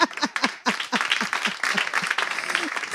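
An audience applauds a liturgical choir with steady, dense clapping, fairly close, while a voice talks over the applause.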